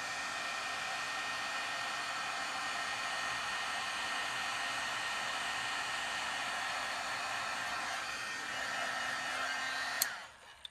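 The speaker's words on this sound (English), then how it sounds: "let me get my heat tool warmed up and we'll melt the powder" Heat tool blowing steadily while melting embossing powder on a stamped image, a loud even airy whoosh for about ten seconds before it clicks off near the end.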